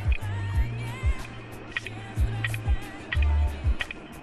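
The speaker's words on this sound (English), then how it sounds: "This is the click of death." A failing 20GB hard drive clicks repeatedly, giving sharp, irregular mechanical clicks and knocks over a constant whirring hum, close up and fairly loud, with no one speaking.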